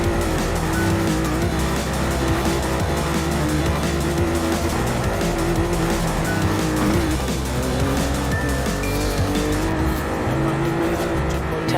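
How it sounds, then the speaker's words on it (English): An e-brake drift in Forza Horizon 4, heard from the cockpit, fills the scene with a loud, continuous engine drone and sustained tire squeal, unbroken throughout. "Let's show them how a Horizon driver handles an e-brake."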